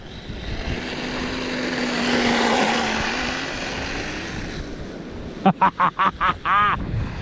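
A 3D-printed RC snowmobile's motor runs at full throttle with a steady whine under heavy wind noise, followed near the end by several short, sharp revving bursts.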